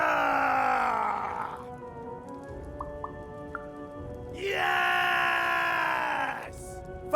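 A drawn-out battle-cry scream from a character in the game Lost in Random, loud and strained, breaking off and then returning as a second sustained howl, with no talking alongside.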